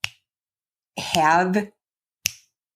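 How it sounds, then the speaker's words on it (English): Three crisp finger snaps: one at the start, a pause under a short burst of talk, then a final sharp snap, close and dry against silence. "I love how I just start snapping my fingers"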